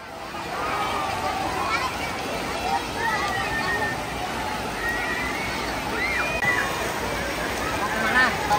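Waves churn in the wave pool at Water Kingdom Mekarsari water park in Cileungsi, Bogor, a constant broad wash of splashing water with crowd voices and shouts throughout.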